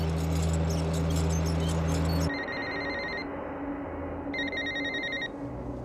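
A telephone rings repeatedly with nobody answering, its electronic ringing bursts loud and close, pausing between rings over a steady background hum.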